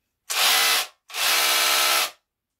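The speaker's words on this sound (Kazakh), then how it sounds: "Екі функция, балға және дрел болады." Electric drill attachment on a cordless multi-tool, which also has a hammer function, whirs in two loud bursts, the first short, the second longer, with a pause between and silence after.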